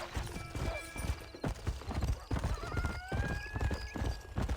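Horse hooves clip-clop steadily through Red Dead Redemption gameplay, with a horse neighing and whinnying at points amid a busy mix of game sound.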